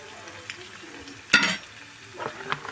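Tempering spices for gongura dal drop into hot oil and give one brief, sharp sizzling burst in a quiet kitchen, with faint stirring clinks around it.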